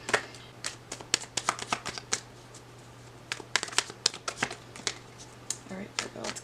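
Tarot cards riffle and slap in repeated quick bursts, close and crisp, ahead of drawing a final card in a reading, with a low steady hum beneath.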